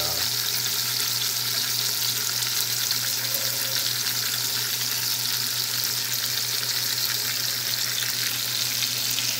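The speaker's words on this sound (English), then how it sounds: "I have to sear every side." A rump roast sears in a hot pan, giving a steady, even sizzle and crackle that runs unbroken throughout, close and fairly loud, with no voices.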